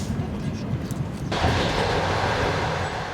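Trans-Siberian Rossiya passenger train rolling along the rails, a steady rumbling roar with low rhythmic wheel noise that swells louder partway through and continues without pause.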